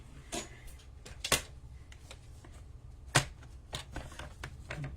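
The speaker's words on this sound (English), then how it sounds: "put my paper trimmer up here." A paper trimmer slicing through cardstock to cut out a stamped Christmas card sentiment: scattered short crisp clicks and slides, a few sharper snaps, quiet and close.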